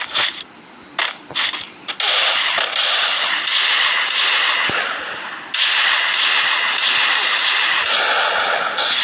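Rapid gunfire from a first-person shooter video game fills the clip, opening with a few separate shots and then running as long, loud, sustained bursts of automatic fire at close range.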